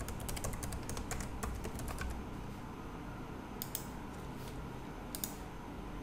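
Rapid keystrokes on a computer keyboard as a password is typed, a dense run of clicks in the first two seconds, then a pause and two short bursts of taps over a steady room hum; no talking.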